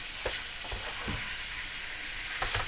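Onions frying together with chicken for a curry cooked outdoors, a continuous near sizzle with a few soft stirring scrapes and knocks.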